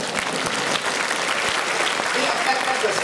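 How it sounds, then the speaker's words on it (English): Audience applause in a hall at a Liverpool comic con panel, steady clapping that carries on throughout with a few sharper claps standing out near the start. "that does deserve an applause"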